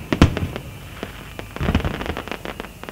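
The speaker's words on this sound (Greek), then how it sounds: "Όλη η Πάτρα έχει σκεπαστεί από ένα πολύχρωμο φως που δίνουν τα μοναδικά πυροτεχνήματα." Carnival fireworks in Patras pop and bang in a rapid, irregular series of sharp bursts and crackles, some close and loud, others fainter in the distance.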